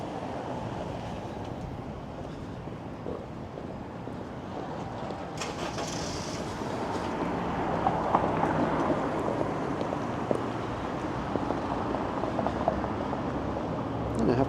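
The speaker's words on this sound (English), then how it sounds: "Some gusty winds, definitely making it feel like" Gusty wind buffeting a microphone on a cold Toronto city walk, a steady broadband rush that swells and stays strong, with faint street noise underneath.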